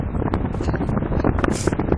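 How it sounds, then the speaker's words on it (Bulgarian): Strong headwind buffets the microphone in steady, broadband rushing gusts while travelling against the wind, loud and continuous throughout with no talk. "много силно ни духа сякаш. Защото срещу вятър."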